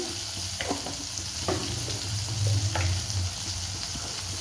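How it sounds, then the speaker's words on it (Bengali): Cumin powder being stirred into a tenga fish curry in a pan, with a steady close sizzle of frying and a few soft scraping strokes of the spoon through the sauce. "তারপরে আবার নাড়িয়ে দিচ্ছি"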